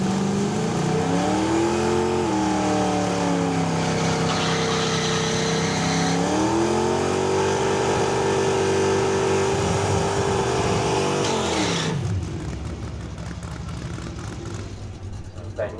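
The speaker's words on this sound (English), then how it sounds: "Ben Washrood with the Ford Mustang, trying to get as much traction away from the start line as possible. Starting to attack those rear tyres." A Ford Mustang launches off a drag strip start line, engine revving hard and loud with rising and falling pitch as the rear tyres spin for grip, the roar cutting away sharply near the end.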